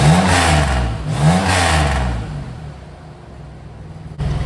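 A 2000 Chevy Camaro's raspy six-cylinder engine revs loudly twice in quick succession, each blip rising and falling, then settles back to a quieter idle.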